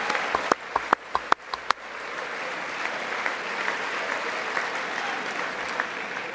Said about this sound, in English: it's great that the generals are clapping for him